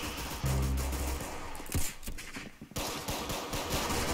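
Rapid gunfire with heavy recoil in the video game Arsenal: a fast run of sharp shots crackles close and loud, pauses briefly, then resumes in quick bursts with no voices.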